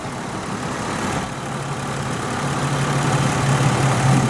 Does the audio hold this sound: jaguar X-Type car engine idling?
yes